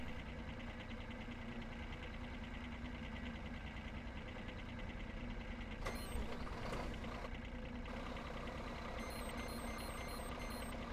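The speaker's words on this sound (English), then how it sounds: "I'm gonna buy this big salt spreader truck" A big salt spreader truck in Ski Region Simulator 2012 idles with a steady low engine drone while a high, continuous reversing beep tone sounds over it, with brief mechanical clunks partway through.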